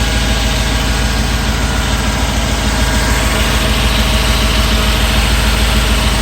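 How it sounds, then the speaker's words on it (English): Chevy V8 engine idling smoothly, a loud, steady low rumble with an even rhythmic pulse and no variation across the whole stretch. "So if your old Chevy V8 runs that smooth, show me."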